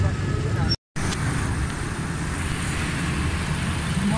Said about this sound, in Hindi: माशाल्लाह गाड़ी स्टार्ट है, ज़बरदस्त साउंड है